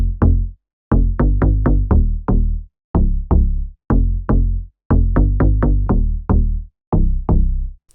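Deep house synth bass preset named Depth playing a punchy rhythmic riff of short plucked notes in quick groups with brief pauses, loud and up front with no other sounds.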